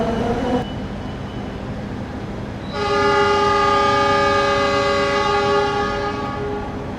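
An economy class train at Kebumen station sounds a loud, sustained multi-tone horn over a steady low rumble, after a quieter stretch of idling noise.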